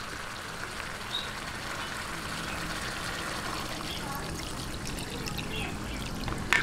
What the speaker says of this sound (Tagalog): atin na po itong lalagyan ng sabaw para po siya ay